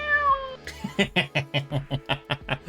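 Cartoonish meowing from a cute cat in a home-made video game, a rapid series of about ten short, loud meows in steady rhythm, preceded by a brief higher-pitched cry.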